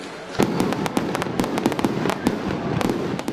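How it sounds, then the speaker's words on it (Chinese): Fireworks burst at a Singapore National Day celebration, a rapid run of sharp bangs and crackles at uneven intervals over a steady crowd rumble. "活动的其中一个亮点是烟花汇演，大批民众聚集观看。"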